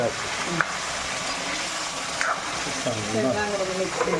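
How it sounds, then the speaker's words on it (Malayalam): Cooked beef goes into a simmering, sizzling curry in a pan, giving a steady close frying hiss with small bubbling and stirring sounds throughout, while a voice talks faintly underneath. "ഇനി നമ്മൾ എടുത്ത് വെച്ചിരിക്കുന്ന വേവിച്ച് വെച്ചിരിക്കുന്ന ബീഫ് ഇതിലേക്ക് ഇട്ട് കൊടുക്കുന്നു."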